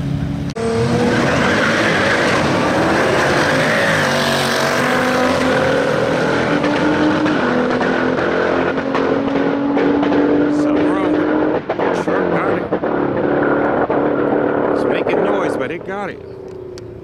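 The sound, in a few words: Nissan GT-R versus Dodge Durango Trackhawk street race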